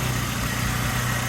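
A 2001 Saab 9-3 Turbo convertible with Hirsch tuning idles steadily up close, a smooth even hum with a low rumbling tone and no voices over it.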